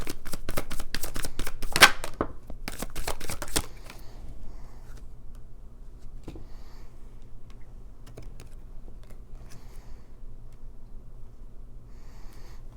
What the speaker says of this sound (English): I want to pull a couple cards for that.